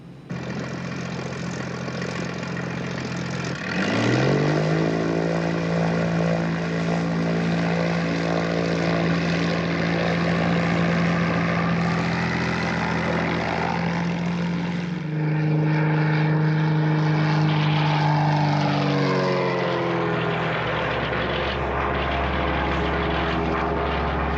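A Green Angel executive aircraft flies with a loud, steady propeller-engine drone that rises in pitch as it powers up, then shifts and fades as it moves away, with no talk.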